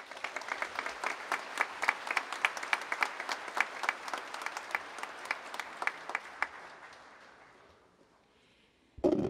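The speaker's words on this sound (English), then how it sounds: "please give a warm round of applause to our commencement speaker, Natalie Shirley" Warm applause from a university commencement audience, rhythmic and fairly distant, holding for about seven seconds before tapering into near silence, then a brief loud noise at the very end.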